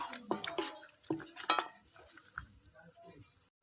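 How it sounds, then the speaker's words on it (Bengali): Chicken being mixed by hand with oil and ginger paste in a bowl, soft wet squelching and scraping with a few clinks of the bowl, nearby and fairly quiet, no voices. "দিয়ে দেবো একটুখানি আদা বাটা, ভালো করে মেখে নেব।"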